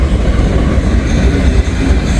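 Steady roar of a freight train passing through rain, rail and wheel rumble holding even and loud throughout, no voices.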